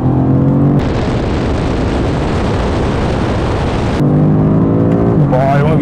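A BMW M5 Competition and a Mercedes E63s accelerating hard side by side in a drag race, a loud sustained engine roar that swells abruptly and holds for several seconds before dropping back, with voices around it.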